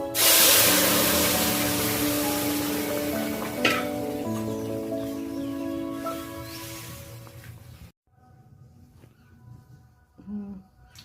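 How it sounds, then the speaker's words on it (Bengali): Dal mixture poured into hot oil tempered with ginger gives a loud, bright sizzle that gradually fades over a steady tonal background, then drops abruptly to a quieter hiss with a few soft clatters. "এবার আমি এই পর্যায়ে ডালের মিশ্রণটা ঢেলে দেব"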